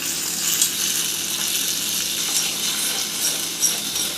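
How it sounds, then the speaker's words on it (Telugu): Spices for a chutney tempering crackle in hot oil, a continuous bright hiss with a few small pops and spits rising above it, heard close and alone. "ఇప్పుడు చట్నీకి పోపు వేసుకోవాలి"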